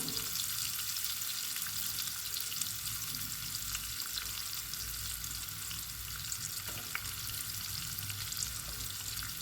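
A chopped onion fries in oil for a fish molee, giving a steady, close, even sizzle that carries through the whole stretch without pause or speech.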